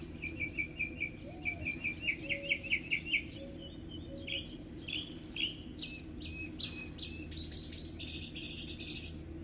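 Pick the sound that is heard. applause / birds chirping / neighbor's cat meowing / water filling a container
birds chirping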